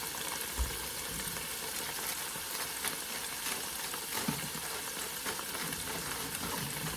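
Wet potatoes frying in a crowded pan, giving a steady, dense sizzle throughout with occasional faint scraping and stirring knocks as they are tossed, close up and with no voices.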